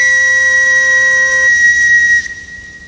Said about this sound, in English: first I have to find my whistle